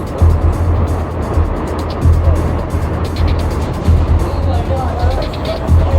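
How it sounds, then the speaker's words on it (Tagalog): A large, fast vehicle approaches through an enclosed tunnel in Japan, its deep rumble booming and echoing steadily throughout, while people talk over it. "may marinig kaming isang ugong ng paparating na sasakyan"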